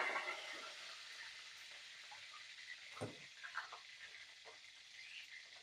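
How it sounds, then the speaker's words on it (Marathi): Mustard seeds and curry leaves sizzle in hot oil for a dal tadka, a steady bright crackling hiss with a few sharp pops and spits, close and fairly quiet, with no talking. "आणि आता मोहरी टाकलेली आहे. कढीपत्ता टाकलेला आहे"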